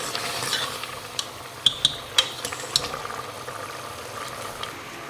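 Aloo gosht meat being stirred as it fries in a pot, with a soft sizzle and several sharp spoon scrapes and clinks against the metal, close and clear with no talking.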